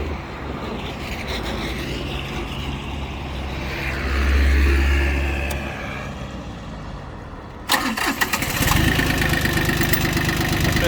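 An ISEKI TU1500F four-wheel-drive mini tractor's engine runs at a steady idle with a low mechanical rumble and a brief swell in the middle. It is then restarted or revved near the end with a sharp burst, close and loud, with no talking.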